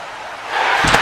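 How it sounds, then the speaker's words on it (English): A stop-motion wrestling scene: an action figure kicks through the glass of an Elimination Chamber pod, a sudden loud crash and shatter bursting out after a low rumble, close and alone. "Samoa Joe booted the glass in."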